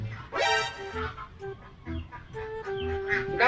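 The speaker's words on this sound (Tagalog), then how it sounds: "Birds!" Fowl cluck and call in short, irregular bursts, fairly close and moderately loud, over about three seconds.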